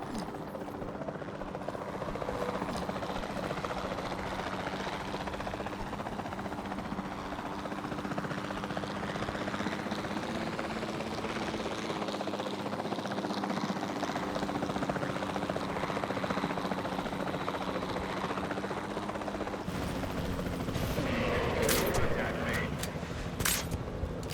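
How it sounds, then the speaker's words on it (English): A capture team helicopter in the video game Jurassic World Evolution 2 flies steadily, its rotor drone holding for the whole stretch, with game music and effects mixed in and brief sharper noises near the end. "Then the sensible thing is to take a capture team helicopter. You can trank it from the air."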